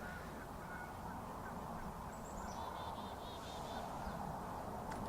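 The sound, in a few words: geese honking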